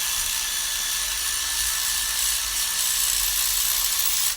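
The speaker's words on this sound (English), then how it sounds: "This is where the electric ratchet's absolutely great." An electric ratchet spins out spark plugs on a Ford Mondeo 1.8 engine, giving a steady, loud high-pitched motor whir that holds evenly for several seconds before cutting off abruptly at the end.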